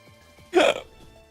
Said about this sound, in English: the only time I ever hiccup like that is when I'm on stream